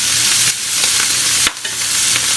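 Pieces of ham frying and sautéing in an all-clad stainless steel pan for a pasta dish, giving a steady close sizzle with a couple of brief stirring scrapes and no talking.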